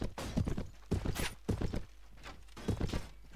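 Horse hooves pound in a Clash of Kings siege, heavy close thuds arriving in irregular bursts of three or four strikes with short gaps between them.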